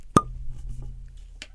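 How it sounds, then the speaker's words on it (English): A cork pops from a bottle of cheap Costco wine with one sharp, close plop, followed by faint low rustling and a quiet clink. "I'm going to pop this bottle open."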